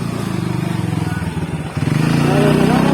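A Honda motorcycle engine runs close by, a low pulsing throb that steadies and grows slightly louder toward the end, with people talking over it.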